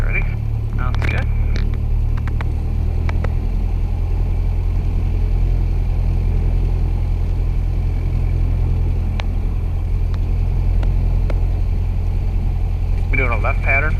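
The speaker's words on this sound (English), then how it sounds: "taking runway 35 for takeoff" Light aircraft at Dare County, North Carolina on runway 35, its engine droning loud and steady close by for the whole stretch, with brief voices crackling over it near the start and end.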